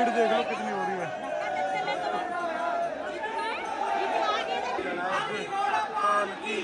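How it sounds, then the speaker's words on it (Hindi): Dense crowd chatter at the Holi festival in Vrindavan, many overlapping voices in a steady close hubbub with occasional louder calls rising out of the babble. "भीड़ देख लो कितनी हो रही है"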